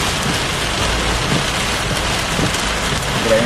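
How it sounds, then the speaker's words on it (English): Heavy rain pours during a Florida thunderstorm, a loud dense continuous hiss of downpour hitting surfaces close by, steady for the whole stretch with no voices. "The rain is like so heavy"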